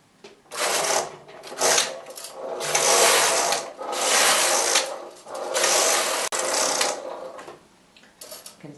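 A domestic knitting machine carriage on the slip setting, with tension at 10, sliding back and forth across the needle bed, repeated rasping, whirring passes of a few seconds each with short pauses between.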